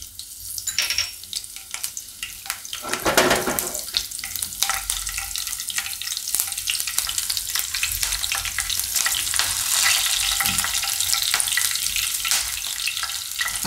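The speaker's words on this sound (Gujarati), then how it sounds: "આ ઘી ગરમ થઈ ગયું છે, એમાં આપણે મરચાં નાખી દઉં લીલા" Green chillies drop into hot ghee and fry in a Kathiyawadi garlic dish, giving a loud, continuous close-up sizzle with crackles and occasional stirring scrapes, and no talk.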